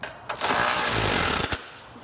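A power tool tightens the fasteners on a Vespa scooter's fuel tank in a short, loud burst of about a second, bracketed by brief clicks and a quieter lull on either side.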